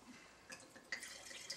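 Red wine poured out of a glass, a short, faint trickle and splash with a few drips, close and quiet.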